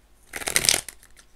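A short burst of tarot cards being shuffled, a quick riffle of papery flutters lasting under a second, close and fairly quiet.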